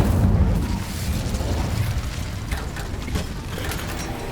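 A fire spell, Incendio, cast in Hogwarts Legacy bursts out as a loud whooshing blast and settles into a steady rumbling, crackling flame roar that continues with small pops throughout.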